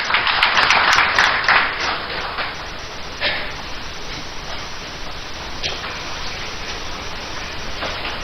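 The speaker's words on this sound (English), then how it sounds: "Let's give him a hand of applause." Audience applause welcoming the chairman of the Lab at a Ghana Agricultural Workers Union forum, a burst of clapping loudest at the start that thins to scattered, fading claps.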